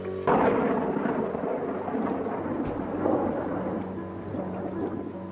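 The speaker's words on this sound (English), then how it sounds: "Rain not only slows down Teoman's schedule, it also soaks an already wet building." Heavy rain and rolling thunder over a Roman bath reconstruction under construction, a steady dense downpour with a loud rumble near the start, with no voices.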